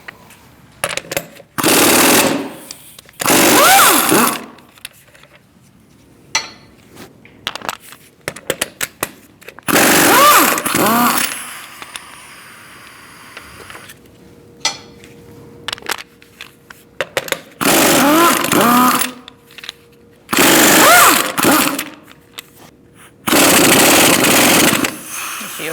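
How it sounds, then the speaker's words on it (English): An impact wrench with a 17mm socket removes a wheel from a 2008-2014 Mercedes-Benz C300. About six loud, close rattling bursts are separated by quiet gaps and small clanks. "Using a 17mm socket, we're going to remove our wheel."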